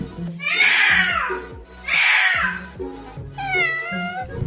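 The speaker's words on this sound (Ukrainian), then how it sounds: "І саме за хвилинку навчимо котика співати." A cat meows in long, drawn-out, song-like calls, three in a row, close and clear over steady low music.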